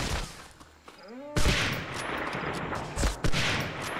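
Gunfire in the World War II shooter Medal of Honor: Frontline, with loud, sharp bursts of shots in quick succession and several heavy blasts close by. A short tonal sweep comes just before the main volley.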